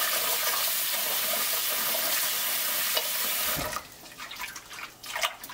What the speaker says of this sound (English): let's go ahead and go to the sink and rinse off our Fonio